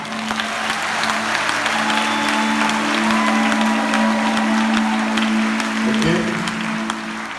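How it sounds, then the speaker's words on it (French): A church congregation claps and acclaims in a dense, steady wash of applause lasting several seconds, loud and close, with a sustained tonal hum running underneath. "Vous croyez que vous allez acclamer?"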